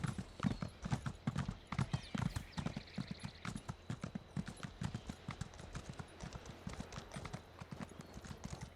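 A horse galloping in a video game, its hooves beating in a fast, steady clip-clop rhythm throughout. The sound is fairly quiet and even, with a few brief spoken words near the start.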